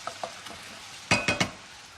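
A sauce of cider vinegar and Worcester sauce heats toward the boil in a pan under a faint sizzle, broken by a few sharp utensil knocks and scrapes, the last three in quick succession, heard close with no voices.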